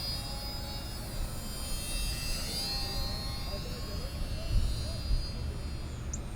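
Small battery-powered electric model airplane flying outdoors, a steady thin whining buzz that drifts in pitch as it circles, with low wind rumble underneath.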